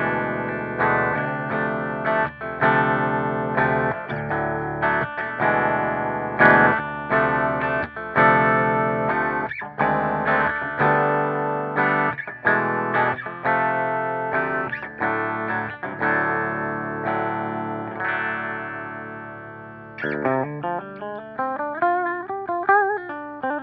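An LTD Phoenix-1000 Deluxe electric guitar tuned to drop D with a ceramic bridge pickup plays heavy distorted chugging riffs and ringing chords, loud and upfront, ending in a bending, sliding run.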